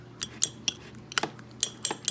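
A utensil clinks and scrapes against a bowl in short, irregular strokes while an egg is stirred into a cheese batter for keto bread, close and fairly crisp.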